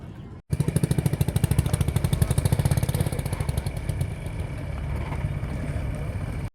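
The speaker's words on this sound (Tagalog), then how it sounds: "Ito na sinasakay yung mga motor." A motorcycle engine starts with a rapid, steady chugging that runs loud and close, then settles into a continuous rumbling drone, as motorcycles are loaded onto a boat on Carabao Island, Philippines.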